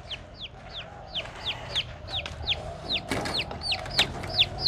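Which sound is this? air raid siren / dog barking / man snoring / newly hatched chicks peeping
newly hatched chicks peeping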